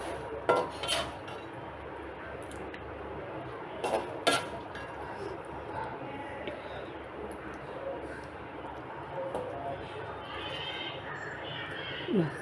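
Shrimp roast in coconut milk being stirred and scooped from a pan: scattered metallic clinks and scrapes of a spoon against the pan, a few sharper knocks, over a low background with faint voice.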